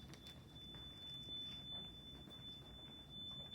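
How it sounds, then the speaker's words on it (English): A hospital bed alarm sounds a faint, steady high-pitched electronic tone that runs continuously through quiet room noise, with no speech. "I apologize for the bed alarm."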